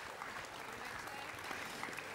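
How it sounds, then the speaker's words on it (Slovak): Audience applause at a Slovak evening event, dense, steady clapping from a sizable crowd filling the whole stretch at moderate level, with a faint murmur of voices underneath. "A ďakujeme za ten potlesk"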